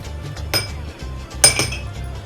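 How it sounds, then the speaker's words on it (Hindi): Walnuts drop into a bowl of creamy fruit chaat, giving two bright clinks against the dish about a second apart over a low background hum. "सबसे पहले अब हम डालेंगे इस पे अखरोट"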